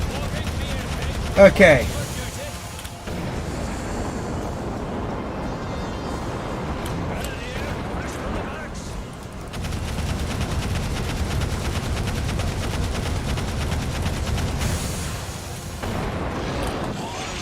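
Turret gunfire and explosions crackle through a battle in the strategy game Divinity: Dragon Commander, with a sharp blast early on and bursts of rapid shooting continuing underneath, while someone speaks over the action.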